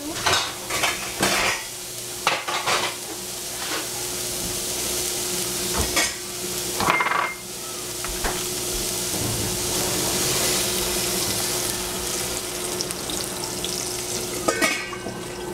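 Collard greens frying in cooking oil in a pan, a steady loud sizzle under repeated scraping and clattering stirs of a utensil against the pan, continuous and close throughout.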